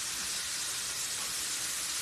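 Steady loud hiss of a steak searing in a hot pan on a stovetop, continuous and close, with no voices.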